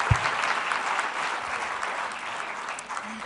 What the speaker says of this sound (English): give those New Zealand teachers a round of applause